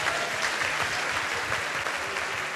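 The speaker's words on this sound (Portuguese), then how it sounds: "Você pode aplaudir ao Senhor?" A church congregation applauds together in steady, even clapping that fills the room at a constant level from start to finish.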